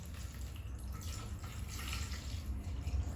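Tap water trickling and splashing into a container for a Umbanda herbal bath of pai Oxalá, a soft, steady pour that grows slightly louder toward the end, with no voices.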